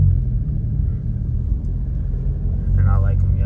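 Low rumble of a car engine and tires rolling through traffic, steady with a slight swell near the end, while a person talks over it.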